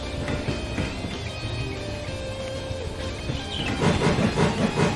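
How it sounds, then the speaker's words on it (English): Trains in a modded Minecraft railroad game rumble and hiss steadily at moderate volume, growing louder and busier toward the end. "I just wish I could turn down the volume a bit on the train sounds"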